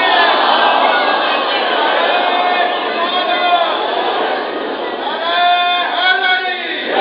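A large mosque congregation at a Muharram gathering reciting salawat together, a loud, sustained chorus of many voices chanting in unison, rising and falling in waves with no single speaker above it.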